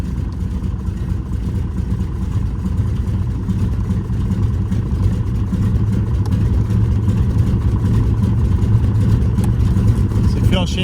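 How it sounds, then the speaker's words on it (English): A Cessna 195 aircraft radial engine runs rough right after starting, firing unevenly on only some cylinders with a loud, steady, shaky drone, and people talk over it. "We're only firing on about 5 cylinders right now."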